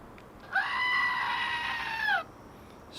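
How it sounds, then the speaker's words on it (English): A goat screaming sound effect plays as one loud, sustained bleating scream of about a second and a half, rising in pitch at the start and dropping off sharply at the end, with no talking. "How many screaming goats does this deserve?"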